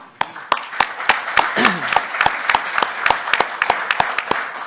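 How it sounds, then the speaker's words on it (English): Audience applause at a rail passengers' association president's report, a steady burst of many hands clapping with sharp, evenly spaced claps standing out up close, heard on its own without talk. "So you guys deserve a round of applause for that."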